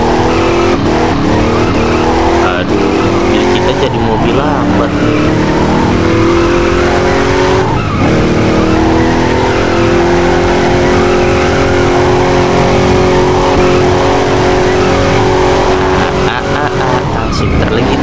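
Car engine droning and revving continuously in an Upin & Ipin video game, with rising tonal whine and occasional skid-like bursts, loud and steady throughout under a busy game soundtrack.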